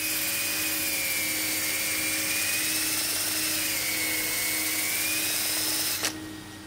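A wood lathe spins a stool seat with a steady, loud whine and tonal hum that holds throughout before dropping abruptly near the end.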